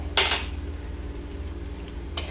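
A spoon clinks twice against a pan while stirring a bottle gourd curry, with a soft background hum between the two sharp metallic taps.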